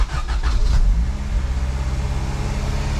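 A freshly swapped engine in a project car cranks and catches, then settles into a steady low idle after a freshly adjusted throttle cable, loud and close with a brief starter burst at the start.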